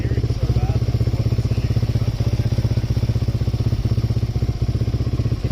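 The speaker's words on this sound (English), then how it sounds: "I've worked a lot with these engines, and I'm trying to figure out what taps at that speed." A Suzuki LTZ400 ATV engine idles nearby with a steady rapid putter, and a lighter rhythmic tapping sits within it at a slower pace than the engine beat.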